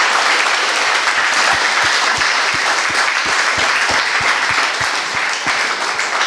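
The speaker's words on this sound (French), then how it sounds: "Je crois qu'on peut applaudir." Sustained audience applause closing a talk on being a lawyer in China, a thick, even wash of clapping from a sizable crowd that carries on without a break and with no speech over it.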